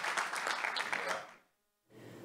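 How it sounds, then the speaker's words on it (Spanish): Brief round of audience applause welcoming a keynote speaker at a Spanish-language internet technology conference, moderately loud for about a second and a half before fading into silence, then low room noise. "Así que con un aplauso lo recibimos a Doug Madori de Kentik."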